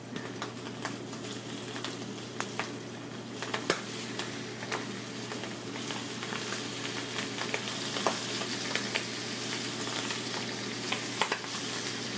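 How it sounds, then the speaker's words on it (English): Squab livers searing in a hot pan: a continuous close sizzle with scattered pops and light crackles throughout, heard alone without any voices. "It's essential that you get a nice sear on your livers."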